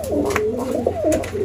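Large, long-bodied domestic pigeons, a male and female pair, cooing in a close, steady run of low rolling calls with nothing else heard.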